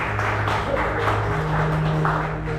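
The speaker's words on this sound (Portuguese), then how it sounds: "Vamos aplaudir o Senhor por isso?" A church congregation applauds together in a steady, dense wash of clapping that fills the room, loud and continuous with a sustained tone underneath.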